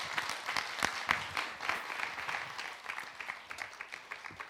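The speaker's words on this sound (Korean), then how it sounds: "박수로 환영하면서 오겠습니다." Steady clapping from a church congregation welcoming a guest pastor to the stage, a dense run of hand claps at moderate volume that eases slightly toward the end.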